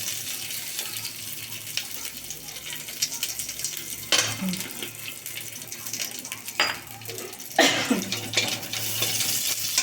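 Dried red chili and a bay leaf fry in hot oil, giving a soft, steady hiss with a few sharper spitting bursts near the end; there is no speech.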